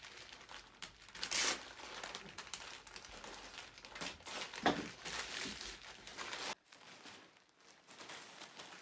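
A homemade crinkly plastic isolation gown is handled and folded up close, producing bursts of sharp crumpling and crinkling that come and go, then stop near the end.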